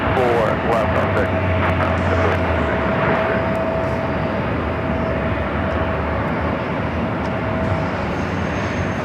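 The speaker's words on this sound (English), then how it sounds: "The Southwest flight is the Southwest flight coming in from San Jose." A Southwest airliner arriving from San Jose at LAX roars loudly and steadily with a broad engine rumble and a high whine. It continues throughout without easing off.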